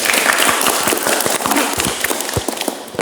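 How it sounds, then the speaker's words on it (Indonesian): Group in an automotive workshop class applauding a student, a brisk burst of hand claps with sharp individual slaps standing out, close and loud, sustained for a few seconds. "Kita berikan tepuk tangan untuk Mas Gangsar."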